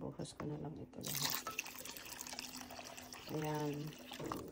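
Liquid poured over eggs in a container, a soft close trickle and drip running under a speaking voice, faint and intermittent.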